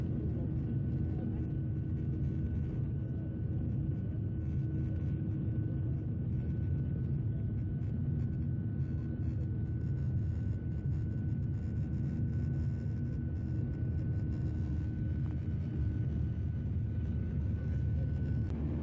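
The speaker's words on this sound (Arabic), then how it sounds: "وأحلى وقت من تطير الطيارة." A steady, loud low rumble fills the cabin of an Iraqi Airways Boeing 737 during its takeoff roll and climb, continuous and unbroken, with no clear talk over it.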